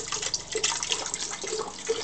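Flat malt liquor is poured into a blender, a continuous splashing, gurgling stream of liquid heard close up with no voices.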